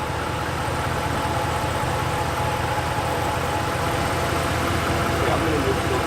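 A 2017 Ram Rebel pickup truck engine runs as a steady low rumble with continuous idle vibration, heard up close and holding even throughout.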